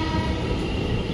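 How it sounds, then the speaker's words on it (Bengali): The Puri–Shalimar special train pulls out of Balasore station with a loud, continuous rumble of wheels and carriages close at hand and no voices. "তো এই ট্রেন ছেড়ে বেরিয়ে গেল বালেশ্বর থেকে"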